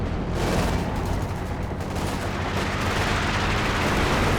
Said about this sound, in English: Double gammon bombs just to guarantee the kill on it.